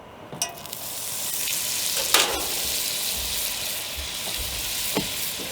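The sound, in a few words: oil and butter sizzling in cast iron skillet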